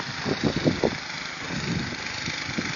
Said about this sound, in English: Having fun with the snowblower.